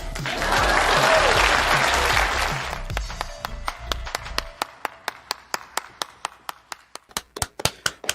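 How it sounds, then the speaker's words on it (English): Audience clapping on a live nerd-culture talk show, starting as a dense burst of applause with low rumble, then thinning out into a handful of separate, crisp claps that trail off near the end. "Please clap."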